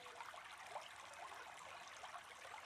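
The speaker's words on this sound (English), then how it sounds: "perhaps the sound of the cascading river could quieten the noise of thought" A cascading river rushes and splashes in a continuous, faint, even wash of water noise with no voices.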